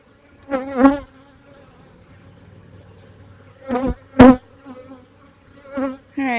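Honeybees from an opened hive buzz around close by, with several loud buzzing passes near the listener over a quieter constant hum of the colony.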